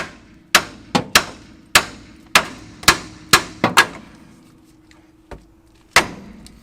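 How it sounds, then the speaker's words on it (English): A hammer strikes a car's steering spindle to loosen the ball joint, about ten sharp metallic blows at uneven intervals, each ringing briefly, with a louder final hit after a pause. "go ahead and strike the spindle right here with a hammer to release the tension in that conical shaped part of the ball joint"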